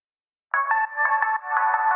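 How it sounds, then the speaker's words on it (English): A synth part from a remix built in Ableton, processed with heavy delay echoes and filtering for a phone-call feel. It enters after half a second of silence as a sustained, narrow tonal buzz with repeated pulsing echoes, loud and steady. "I guess like a phone call vibe. And then I added a lot of delay, which is just an echo from Ableton"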